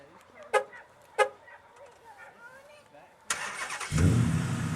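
A 2009 Dodge Challenger R/T fires up via remote start after two short horn chirps, its engine catching abruptly and settling into a low, rumbling idle nearby, while someone speaks before and over the startup.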